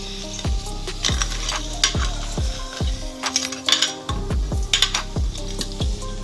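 Crabs stirred and fried in masala in a pan, with repeated sharp metal spoon clanks against the vessel in an uneven rhythm over a continuous sizzle.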